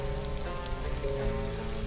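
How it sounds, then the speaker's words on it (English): Rain falls in the alien-planet survival game Stranded: Alien Dawn as a steady, close hiss lasting under two seconds, with faint tonal sounds underneath and no speech. "Is it still raining in here?"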